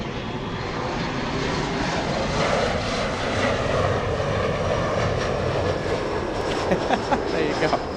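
Boeing 767-400 airliner at LAX, a loud, steady jet engine roar filling the whole stretch with a broad rushing rumble, a few faint clicks toward the end.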